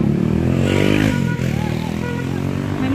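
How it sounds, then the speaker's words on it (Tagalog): A motorcycle runs steadily close by on a road where a traffic collision has just happened, its engine drone loud and continuous across the whole stretch with faint street noise around it. "Ayun oh, may motor pala."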